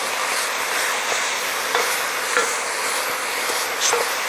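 Ground beef chili sizzles steadily on a hot griddle while a metal spatula spreads and chops it, with scraping taps and hissing over a continuous frying bed, close and without talk.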